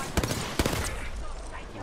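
Gunfire in the video game Apex Legends, two or three sharp close shots in quick succession followed by a ringing tail, with no talk over them.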